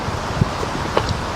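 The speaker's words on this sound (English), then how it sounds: "I feel it is windy over here though" Wind blows outdoors on an autumn day, a steady broadband rush buffeting the microphone, with a couple of faint rustling bumps and no clear voices.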